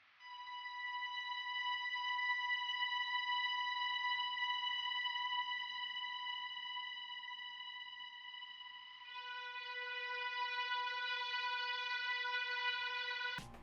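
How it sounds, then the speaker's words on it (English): A soft, sustained synth drone holds steady harmonic tones, shifting to a new chord about two-thirds through, quiet and ambient with no voices. "this is basically just like an ambient droning pad in the background"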